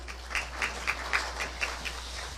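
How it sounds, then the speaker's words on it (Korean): An audience claps to welcome a professor to a public lecture on conflict management, a thin, fairly faint patter of hands with a steady low hum underneath. "전영준 교수님을 큰 박수로 함께 환영해 주시기 바랍니다"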